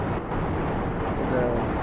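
Explosions in Kerbal Space Program come as a loud, continuous rumbling roar of blasts that fills the whole moment.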